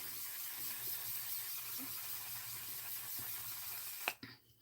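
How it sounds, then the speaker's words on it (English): Setting spray misted onto a face, a steady soft hiss lasting several seconds, followed by a couple of sharp clicks from the nozzle as it stops. "Let me spray this down"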